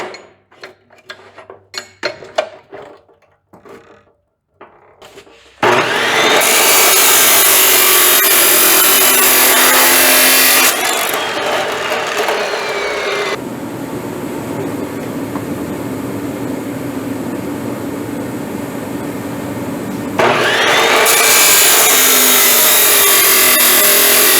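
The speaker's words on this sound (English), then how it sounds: "I gotta cut the little tabs that go on the side." A few sharp clanks and taps, then a loud power saw screams through metal tabs in long continuous cuts with a brief pause in between.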